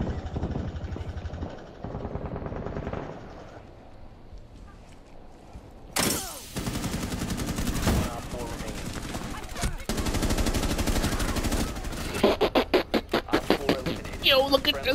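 Hip-fire gunshots in Rainbow Six, from the FBI SWAT side, crack in loud bursts and rapid volleys with shattering debris, mixed with game sounds and voices talking over the action.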